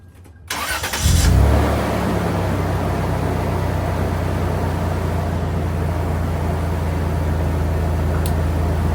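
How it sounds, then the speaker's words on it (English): A vehicle engine cranks briefly and catches, then settles into a steady, loud idle that runs on evenly for several seconds, close by, with no talk. "I'm gonna start the vehicle though this time, just to make sure that we have enough power"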